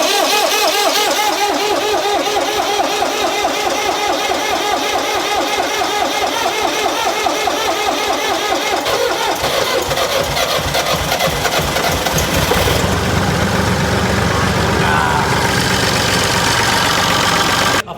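A moped engine fitted with a Malossi 70cc kit on a Peugeot 103 project fires up and runs, a loud, rapid two-stroke chatter that holds a steady idle and then shifts tone partway through, close and continuous.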